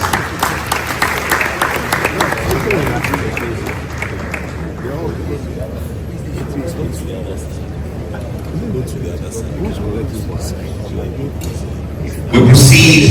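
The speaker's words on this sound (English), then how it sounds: "Please, a round of applause." Audience applause at a medal-bestowing ceremony, a loud sustained wash of clapping from a large crowd that gradually settles, with a sharp louder burst near the end.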